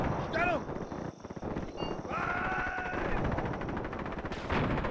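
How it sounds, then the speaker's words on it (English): Mortar squad fire and scattered gunfire in the Graviteam Mius war game, a series of sharp cracks and thuds over rumbling combat noise, with someone talking throughout. "And our mortar squad, which I believe right here, will begin firing."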